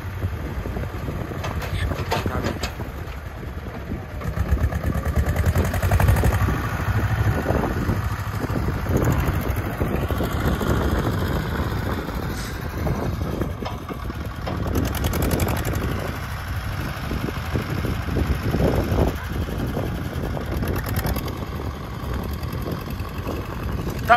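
A low tractor engine drones steadily throughout, with wind buffeting the microphone and occasional knocks and rustles nearby.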